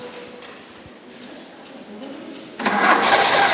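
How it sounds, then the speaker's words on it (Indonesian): A motorbike or small vehicle engine being cranked with its electric starter during an automotive class in Indonesia, catching at the end into a loud steady running roar after quieter cranking, with people talking in the background. "Coba di starter lagi aja."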